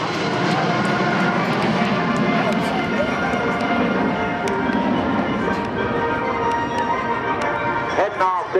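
A composite formation of aircraft passes over Randolph Air Force Base at a 2009 airshow, a loud, steady roar of engines throughout, with a commentator's voice under it.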